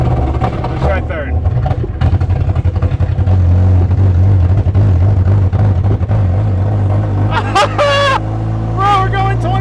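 Car engine running on straight moonshine, accelerating in third gear at low throttle, a steady droning hum with rising revs, loud and close, with excited voices talking over it.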